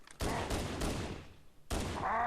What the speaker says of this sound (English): You can use the assault rifle to weaken his shield a little bit, or a plasma rifle.